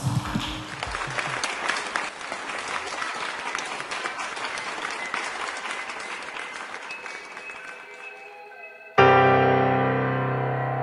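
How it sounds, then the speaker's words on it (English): Wedding guests applaud a newly married couple at a church ceremony, a dense, steady clapping crowd lasting several seconds before a sudden change to louder music-like tones. "Let us give them a round of applause."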